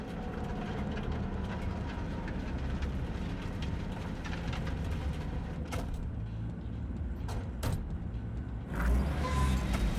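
A train rumbles steadily through a Cyberpunk 2077 game scene, a continuous low mechanical roll with a few sharp clanks and a heavier surge near the end.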